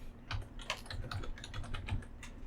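Rapid, light clicking of keys on a computer keyboard, a close, quiet burst of irregular keystrokes with no talking.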